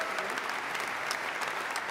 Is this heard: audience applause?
yes